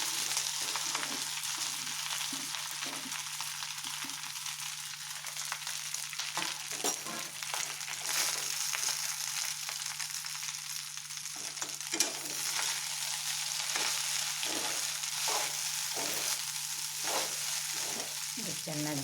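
Crumbled patrode made with sweet potato leaves is tossed into a tempering with sandige chillies, crackling in a steady sizzle while a spatula scrapes and stirs in repeated strokes, with no one talking.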